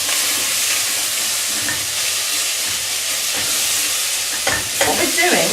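Diced potato and pepper fry in a pan, a loud steady sizzle filling the whole span while a utensil scrapes and stirs, the clatter growing busier toward the end.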